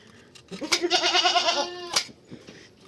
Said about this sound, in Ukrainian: Це ж не бекай, коза